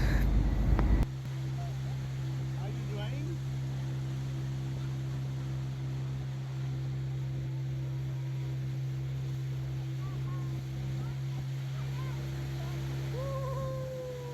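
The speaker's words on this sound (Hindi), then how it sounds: "तो एक पूरा लंबा सा चक्कर कटवा के आपको बोट लेके आती है, जाती है, फिर घुमाती है" Motorboat cruising on a resort lake, a steady low engine drone with water wash after a louder opening burst, continuing evenly throughout, with no talking.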